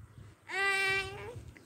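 A goat gives a single drawn-out bleat of about a second, loud and close, with a quavering pitch. Faint background noise continues under and after it.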